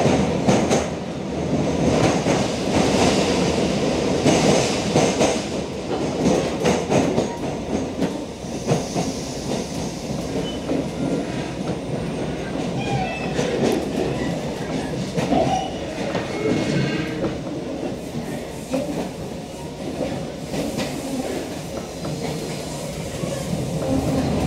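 Passenger train ride toward Newmarket, with steady rumbling wheel and carriage noise throughout, occasional clacks and a loud continuous interior hum, no talk standing out.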